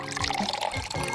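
Water is poured for a customer at a small hotel eatery, a brief, soft trickle of liquid lasting about a second.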